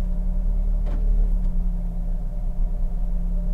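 A 2020 Mercedes-AMG CLA 35 Shooting Brake gives a steady, low engine rumble from inside the cabin as it moves off, with a constant deep hum and no voices.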